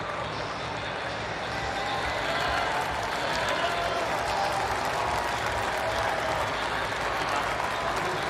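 A stadium crowd at the World Athletics Championships applauds and cheers the 33-year-old Serbian women's long jump gold medallist, a dense, steady roar of clapping lasting throughout.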